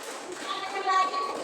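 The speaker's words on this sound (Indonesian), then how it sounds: "tepuk tangan" A classroom of children applauds a student's answer, a short burst of light, scattered clapping with children's voices mixed in, close and moderately loud.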